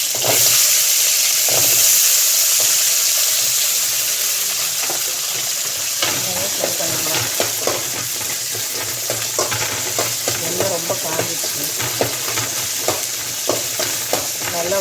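Cumin, garlic and onion fry in oil in a pan for coriander chutney, a loud hissing sizzle that grows busier and crackly as the mixture is stirred, close up with no talking.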